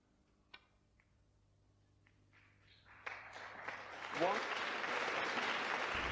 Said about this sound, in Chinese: 打进这样一颗简单红球，都能引得现场观众如潮般的掌声